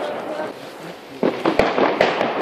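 Firecrackers burst inside a teddy bear on New Year's Eve: several sharp, loud cracks in quick succession over background noise, with voices in the background.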